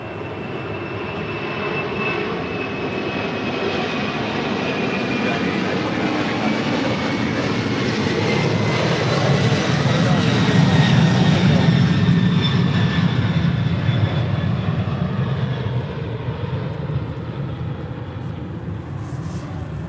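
Broad roaring rush of a large jet, likely a 747, climbing out at LAX, a sustained distant swelling drone that peaks midway and slowly fades as it recedes.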